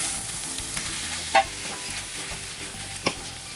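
About half a kilo of boneless chicken breast is tossed into frying masala for palak chicken, giving a close, steady sizzle broken by a couple of short stirring scrapes.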